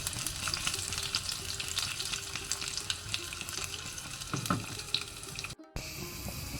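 Crushed garlic and mustard seeds fry in hot oil for a Mangalorean mango curry, making a dense continuous sizzle with small crackles and a brief stir, up close with no voices.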